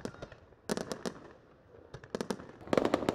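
New Year fireworks over Hòa Bình city near the Hòa Bình 1 bridge, a rapid volley of sharp cracks and bangs in clustered bursts, fairly near and loud, with faint crowd ambience between them.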